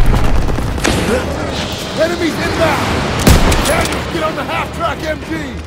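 A half-track-mounted machine gun rattles in Call of Duty: WWII, steady bursts under battlefield noise with a sharp crack near the middle, while voices call out over the firing.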